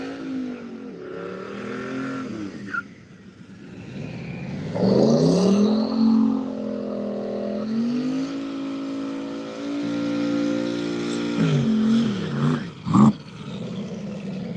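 A turbocharged 6-liter LS race car engine with an 88 mm turbo revs up and down at a street car drag racing event, loud rising and falling engine tones with sharp blips near the end.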